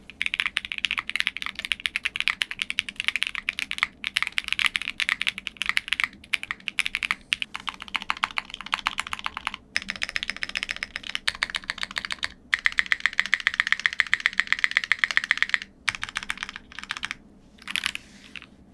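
Steady, rapid typing on a mechanical keyboard with a polycarbonate plate and Poron plate foam, no case foam, dense clacky keystrokes with brief pauses, close and clear with no voices.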